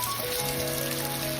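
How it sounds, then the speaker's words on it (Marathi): Heavy rain pours steadily and close around a crab-catching boat, a dense unbroken patter with a faint low engine-like hum running underneath. "जाम पाऊस लागलाय."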